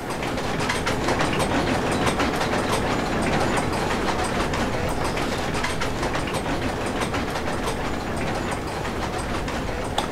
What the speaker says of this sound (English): I know it controls a noisy machine